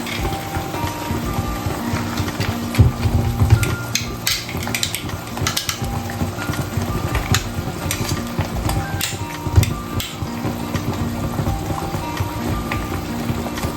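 Osso buco meat going into a pan of cooking tomato, giving a steady, dense sizzle and frying crackle with occasional scrapes and clinks of the pan throughout; no voices.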